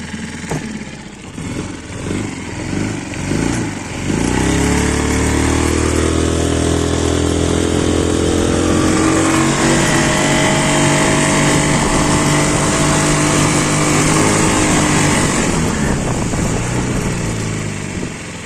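A Mercury 6 horsepower four-stroke outboard boat motor runs steadily and close up, its engine drone rising after a few seconds to a sustained, even hum with no talking over it.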